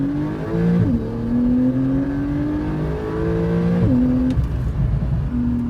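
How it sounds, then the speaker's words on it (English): A Porsche 911 Carrera (991.2) without Sport Chrono revs hard under launch control, the engine note holding steady, dipping and climbing again in a loud, close, continuous drone with stepped pitch shifts. "foot fully down, right foot down, and rev it up,"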